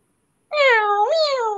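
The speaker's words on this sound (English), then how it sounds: "Meow, meow." A cartoon cat gives one clear, drawn-out meow that rises and bends in pitch partway through. It is close and loud after a moment of silence.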